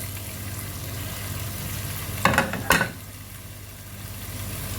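Quarter kilo of meaty chicken pieces frying in a pan, a steady soft sizzle with two brief louder bursts of spitting midway, no talking.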